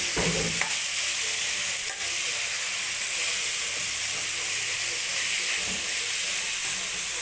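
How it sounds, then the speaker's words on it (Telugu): Chicken stir-fries over a high flame for spicy gongura chicken, with a loud, continuous sizzle and hiss and a few faint scrapes of stirring close by. "చికెన్ వేసుకొని హై ఫ్లేమ్ మీద 1 మినిట్ బాగా తిప్పాలి"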